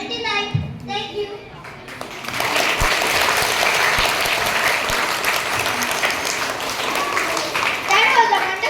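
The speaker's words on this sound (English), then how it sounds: "Please give him a round of applause." Applause from a school audience after a child's English poem recital at a Goa school celebration, clapping swelling and holding steady over several seconds, with a brief voice at the start and children's chatter mixed in.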